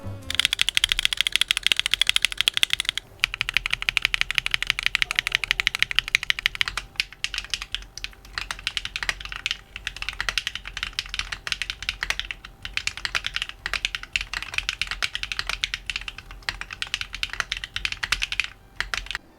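Continuous rapid typing on a mechanical keyboard with lubed Owlab London Fog switches, dense clacky keystrokes close to the mic, with a brief pause near the start, no talking.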